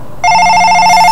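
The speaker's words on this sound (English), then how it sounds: "this is where you can actually change your ringtones for your new voicemail, telephone" A telephone ringtone plays from a phone's settings menu, a loud, steady electronic tone that starts abruptly and holds for about a second.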